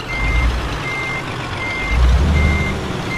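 A Scania truck in a truck driving simulator game sounds its reversing alarm, steady evenly spaced beeps repeating over a low idling engine rumble.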